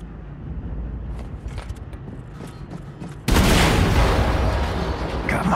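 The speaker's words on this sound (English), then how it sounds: "Explosion in der Hangarbucht." A tank blowing up in the first-person shooter Wolfenstein II: low rumbling game ambience with scattered clatter, then a sudden loud, broad explosive blast that sustains as a roaring wash to the end.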